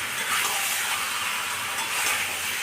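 Pieces of shankar fish stir-fried in a pan like meat curry, giving a steady, fairly soft sizzle and hiss with gentle scraping of the stirring, close up and without talk.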